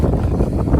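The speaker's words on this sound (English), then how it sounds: "It's windy." Wind gusts buffet the microphone outdoors in a hilly park, a brief, rough low rumble of blustery air.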